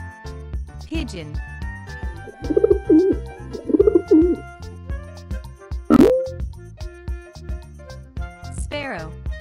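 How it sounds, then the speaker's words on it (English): A pigeon coos in soft, rolling bursts over light music, with a rising whistle effect midway. "Pigeon."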